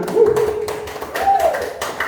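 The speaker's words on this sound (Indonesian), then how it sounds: "Tepuk tangan untuk Mas Ita terlebih dahulu, tepuk tangan." A few scattered claps at an Indonesian elementary school classroom greet a sixth-grade student's group presentation, sounding as sparse taps under a teacher's voice.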